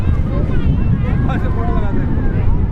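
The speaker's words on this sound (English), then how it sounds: "It is really, really windy." Strong wind at Juhu Beach in Mumbai buffets the microphone with a constant low roar while people talk close by.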